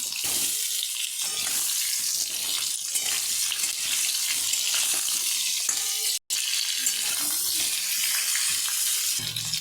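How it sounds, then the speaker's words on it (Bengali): Potatoes frying in hot oil, a steady bright hiss and crackle that fills the clip, close and fairly loud, with one brief dropout midway. "আমি এখন আলুটা ভেজে নেব"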